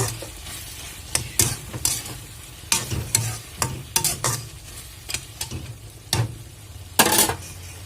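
Dried fish curry being stirred in a pan, with repeated sharp scraping and clinking strokes of a spoon against the metal over a low sizzle, irregular and close, no voices.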